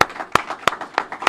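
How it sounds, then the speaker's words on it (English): An audience at a counter-trafficking campaign launch in Saint Lucia applauds in a short burst, the sharp individual claps landing close and fairly evenly spaced. "could we put our hands together and give them a big round of applause?"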